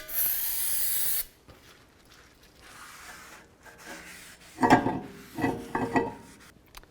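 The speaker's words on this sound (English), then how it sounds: "Just take some brake parts cleaner. Wash down the surface of the rotor" Brake parts cleaner sprayed onto a rear brake rotor of a 2009-15 Toyota Prius, a steady pressurized hiss lasting about a second, followed by quieter rubbing and a few scuffing wipes.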